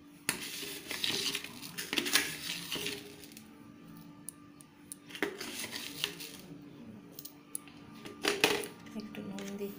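Grated mango is mashed with sugar in a bowl, giving bursts of clinking, scraping and squelching that come and go at close range.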